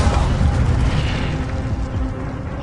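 An Expelliarmus spell is cast in Hogwarts Legacy, a loud rumbling magical blast with a booming impact that fills the whole moment and then rolls on steadily.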